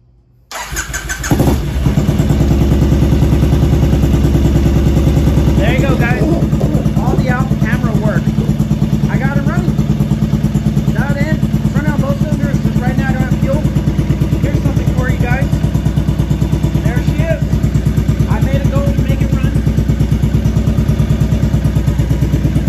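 A 2007 Triumph Thruxton 900 motorcycle cranks and fires up, then settles into a loud, steady, close idle that runs on, while someone talks over it at intervals.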